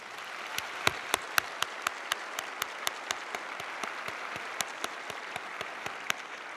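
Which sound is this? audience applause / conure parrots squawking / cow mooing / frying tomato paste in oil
audience applause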